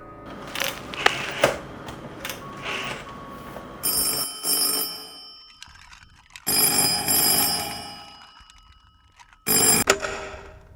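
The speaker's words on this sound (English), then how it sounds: "Evidently, he makes a phone call." A telephone rings in bursts, with long stretches of quiet between them, set against some clattering and rustling room noise.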